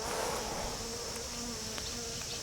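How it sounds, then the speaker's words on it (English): Bees buzz steadily and continuously nearby outdoors, a droning hum with occasional closer passes, no voices. "too many bees around here"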